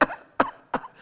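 Three sharp, close coughs come at an even rhythm, each a harsh burst with a brief rasping tail, from firefighters in bulky safety gear who have inhaled smoke from an Alberta wildfire.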